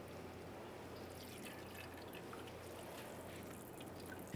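Transmission fluid drains steadily from a 1994-2001 Dodge Ram 1500 transmission pan into a collection receptacle, a faint, continuous trickle and patter with no pauses or voices.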